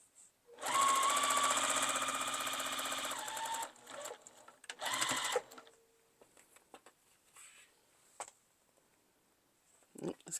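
A sewing machine stitches a fabric coffee cup mug rug in two bursts, a long run of fast, close mechanical whirring and then a shorter one, followed by soft handling clicks and small rustles.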